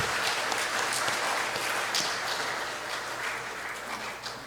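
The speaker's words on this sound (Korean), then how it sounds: "감사의 박수를 올려드릴까요?" A church congregation applauds during a Sabbath service, a sustained broad clapping that holds steady and fades slightly at the end.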